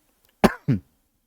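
Two quick coughs in close succession, loud and near, followed by silence.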